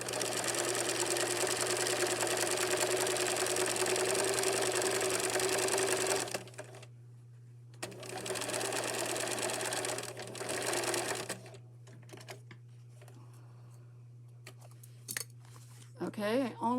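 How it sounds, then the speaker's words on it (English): A sewing machine stitches a seam in two long close runs, the first about six seconds and the second about four, over a constant low hum, followed by quiet handling noises. "I only stitched it up to that seam at the top"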